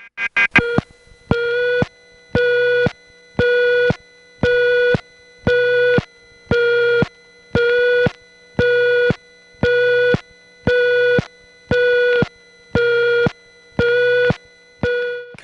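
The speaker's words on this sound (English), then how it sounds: "kinda like the 660 tone, it's just half the speed with loud clicks." Telephone exchange tone from an airport phone system in 1970: a steady pulsed 660-style tone at half speed, about a dozen even beeps with sharp loud clicks at each start and stop, heard alone.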